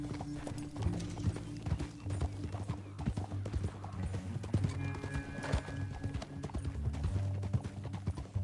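Rapid rhythmic hoofbeats of galloping horses in Red Dead Redemption 2, steady and close, with an occasional whinny and low rumbling game ambience underneath.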